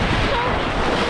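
Ocean surf breaking on a Florida beach, a loud, continuous rushing wash of water mixed with heavy wind buffeting on the microphone, close and steady.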